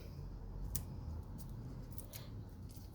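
Scissors snip through paper dimensionals for a stamped water scene craft, giving a handful of sharp, close cuts spaced irregularly over a steady background hiss.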